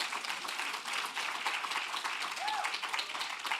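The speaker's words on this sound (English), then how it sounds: "Now that should get an applause." Dense, sustained applause from a conference audience at an opening plenary session, a steady wash of clapping over several seconds, with a faint voice briefly audible beneath it.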